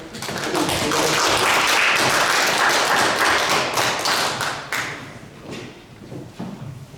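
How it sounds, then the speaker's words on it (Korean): Congregation at a Korean church prayer meeting in New Jersey applauding, a dense loud wash of many hands clapping that holds steady, then thins into scattered claps and fades toward the end. "박수"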